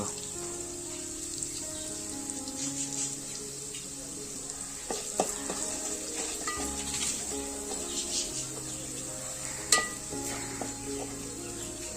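Turmeric and asafoetida sizzle in hot oil for a fish curry, a steady frying hiss under faint stirring and kitchen clatter, with one sharp clink near the end.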